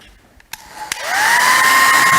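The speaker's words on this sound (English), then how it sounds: "Running a hairdryer over the belt of the Van de Graaff while it's working for about 5 minutes should cure both of those problems." A hair dryer switches on and runs steadily, a loud continuous blowing whine that rises in pitch as it spins up after a couple of faint clicks.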